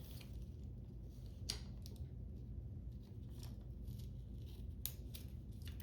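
Photographic film being cut by hand without scissors gives a few faint, sharp snips and crackles at irregular intervals over a quiet background hum, with no talking.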